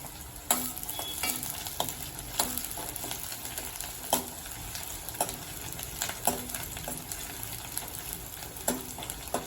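Tomato sautés in a pan for aloo palak sabzi with a constant crackling sizzle, punctuated by regular sharp clicks and scrapes of a spatula stirring close by.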